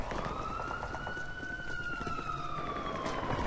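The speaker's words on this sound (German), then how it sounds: "Und die Sirenen sind ja an." Police sirens wail in the Call of Duty Modern Warfare 3 video game, a steady rising and falling tone sustained through the whole stretch amid loud, busy game noise.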